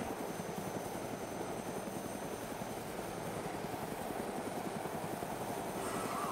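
A helicopter's rotor in the video game DayZ drones steadily and continuously, a constant low thumping whir with no voices.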